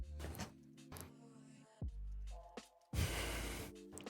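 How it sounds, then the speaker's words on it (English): Heavy breathing close into a microphone during an art stream, several sharp gasps and snorting exhales separated by quieter gaps. "Oop, I'm breathing really hard in the mic."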